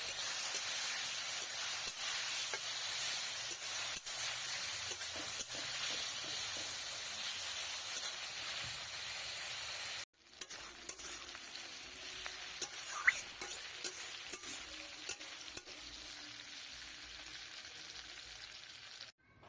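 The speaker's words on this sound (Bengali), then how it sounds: "এবার প্রথমে আমি মাছটাকে চিংড়িটাকে ভেজে নেবো" Prawns with their shells left on fry in hot oil while cooking lau chingri, a bottle gourd and prawn dish, giving a steady, loud sizzle. It quiets briefly near the middle, then resumes a little softer with a few clicks and pops.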